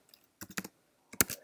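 Close, quiet typing on a computer keyboard: a few short bursts of key clicks separated by brief pauses.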